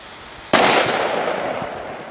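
Small firecrackers set off on New Year's Eve at night: a single sharp bang after a short quiet stretch, followed by a crackling, hissing burst that fades slowly. No voices.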